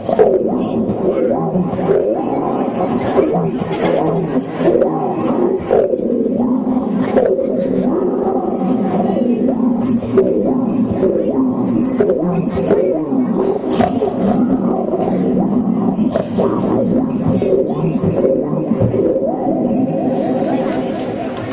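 A human voice imitates a lion's roar, a loud, close, sustained series of growling roars with rough rising and falling bursts that continue almost unbroken throughout.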